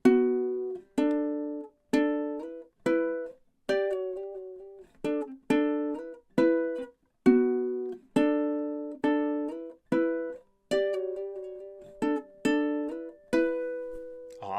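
A ukulele picks out a riff as a plucked melody, with a steady beat of sharp, ringing notes and chords struck one after another, loud and close, with no talking.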